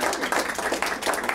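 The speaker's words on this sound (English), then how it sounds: "So give Aaron a round of applause, being a good sport" Audience applause for a volunteer at a live mentalism show, a brief burst of dense clapping with a steady crackling texture throughout.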